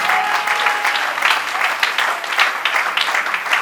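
Congregation at a Christian youth conference breaking into steady, loud applause with scattered cheers and whoops, a dense wash of clapping filling the room from start to finish.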